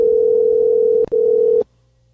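A phone call ringing tone sounds as a loud, steady tone with a brief click partway through, then cuts off abruptly into near silence.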